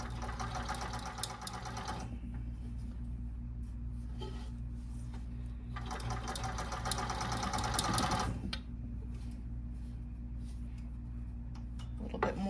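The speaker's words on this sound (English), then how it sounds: "And then I'll just start stitching and checking periodically to make sure it still looks good." Blind hemmer sewing machine stitching the bottom hem of drapery, running in two steady close bursts of rapid mechanical whirring, with a quieter hum between them.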